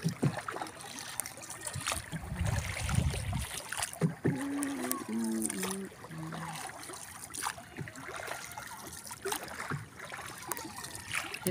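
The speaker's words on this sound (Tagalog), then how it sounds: "Nagbangka lang kami papuntang halabang" A small boat moves across water on a ride, with faint sloshing and trickling under a low motor drone, broken by bumps and brief distant voices over a quiet background.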